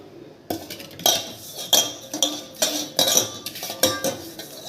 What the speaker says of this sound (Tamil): இப்போது இந்த சர்க்கரையை இதில் போட்டுடலாம்